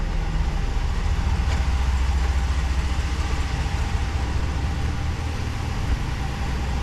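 The engine of a 2019 Ram 1500 Laramie 4x4 truck idles indoors as a low, steady rumble with a faint hum. It stays even and continuous for the whole stretch, with no talking.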